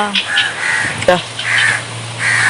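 A crow chick rescued after its nest fell from a palm tree caws in a village setting, giving several loud, close, drawn-out calls separated by brief gaps.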